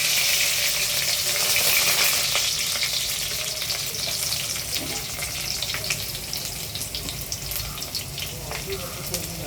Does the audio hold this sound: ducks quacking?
no